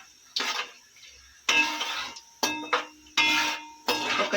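A spoon scrapes and stirs through biryani with bay leaves in a pot, in five short bursts of clinking and scraping separated by brief pauses, close and fairly loud with no talking.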